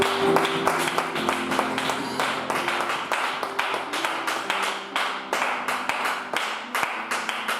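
A church congregation claps in praise of the Lord, producing rapid, continuous hand claps that stay loud and even throughout, with a sustained organ-like tone underneath.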